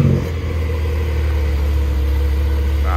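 A Porsche 911 Dakar sits idling close by, its engine holding a loud, steady low rumble throughout with no talking over it.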